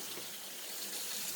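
Water pours steadily into a pan of turkey soup, a short, soft, even gush from a tap with no voices over it.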